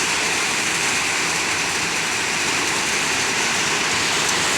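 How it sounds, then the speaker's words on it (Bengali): Steady, dense video game rain hisses continuously without a break, loud and even throughout, with no voices. "ভাই আবার বৃষ্টি শুরু হয়ে গেছে"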